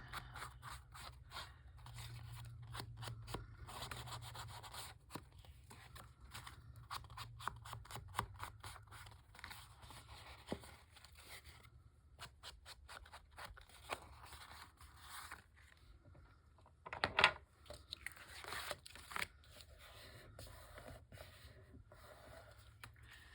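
Paper folded over during a grunge-style crafting session, heard as quiet, close crinkling and scraping that runs on in soft bursts.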